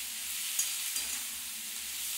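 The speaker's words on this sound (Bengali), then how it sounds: "এবার পটলটাকে আমি আগে তেলের মধ্যে ভালো করে লাল লাল করে ভেজে নেব।" Pointed gourd pieces fry in oil, making a faint, steady hiss of sizzling with two small pops early on.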